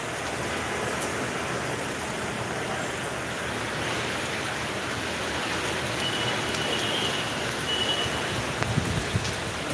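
Heavy rain and storm winds lash Dhaka, forming a steady, unbroken broadband roar of downpour and gusts that stays loud and constant throughout, with no voices.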